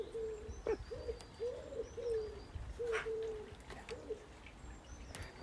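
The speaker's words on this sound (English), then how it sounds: "That's wood pigeon." A wood pigeon's soft, rhythmic cooing in a repeated phrase of several low notes, moderately distant outdoors, with faint chirps from other birds and light ambient noise.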